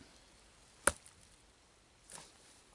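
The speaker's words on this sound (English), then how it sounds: "I will stab the testing log and try and snap off the point." A knife stabs into a rotten test log with one sharp, close thud, and a softer, duller knock follows about a second later. Both sit against quiet background with no talking.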